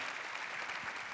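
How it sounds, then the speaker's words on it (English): Audience applause during an interview event with Serena Williams, a faint, steady patter of many hands clapping heard at a distance, even and unbroken. "That definitely deserves an applause"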